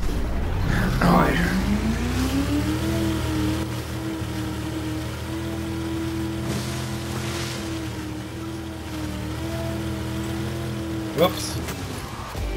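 A motorboat engine drones steadily in a game, its pitch rising as it speeds up and then holding level, with a brief sharp knock near the end.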